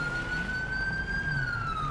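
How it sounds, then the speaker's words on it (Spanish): A police siren wails in the video game GTA 5, a steady rising and falling tone sustained over an engine-like rumble, moderately loud and close. "Por ahí escuché unas sirenas."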